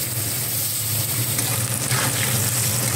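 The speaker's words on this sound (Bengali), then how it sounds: "কেটে রাখা আলুগুলো আমি ওই একই তেলের মধ্যে ভেজে নিচ্ছি" Potatoes fry in oil with nigella seeds and green chilli for a thin hilsa curry, giving a steady, close, even sizzle and hiss that runs the whole time without a break and without any voices.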